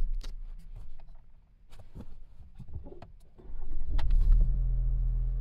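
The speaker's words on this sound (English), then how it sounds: "Let's go ahead, turn the truck off, turn it back on, see if we can get everything to work properly." A 2023 Chevy Colorado pickup is switched off and restarted: a few quiet clicks and a mechanical whir, then the engine cranks and settles into a steady low idle for the rest of the clip.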